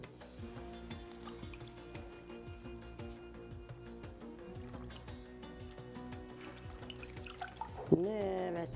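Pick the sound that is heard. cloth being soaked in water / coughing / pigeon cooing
cloth being soaked in water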